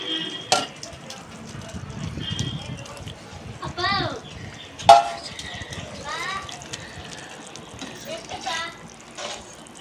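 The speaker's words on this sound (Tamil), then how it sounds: "இப்போ குழம்பு நல்லா கொதிட்டு இப்போ நம்ம வதக்கி வச்ச வெண்டைக்காயை சேர்த்துக்கலாம்" Sautéed okra tipped into a boiling tamarind kara kuzhambu, giving soft stirring and bubbling sizzle with a few sharper splashes, heard close up beneath steady talking.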